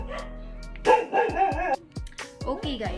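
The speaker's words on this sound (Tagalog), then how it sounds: "pasensya na, nag-ingay yung mga aso natin." Several dogs barking in short, loud, sharp bursts close by, with yips between them in a home setting.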